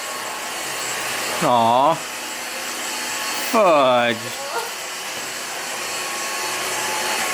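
A household vacuum cleaner hums steadily during house cleaning, a continuous motor drone under the scene while a person speaks briefly twice.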